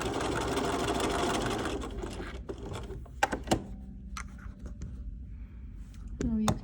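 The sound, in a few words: sewing machine stitching a dart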